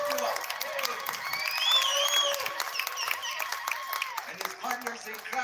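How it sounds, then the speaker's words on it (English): A crowd at an Oak Flat protection gathering claps and cheers for a powwow performer, with moderately quiet, sustained applause and a few whoops, mixed with a speaking voice. "One more time, give a big round of applause for the powwow rock star,"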